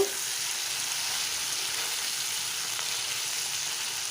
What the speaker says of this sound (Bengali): এখন আস্তে আস্তে করে লেড়ে দেব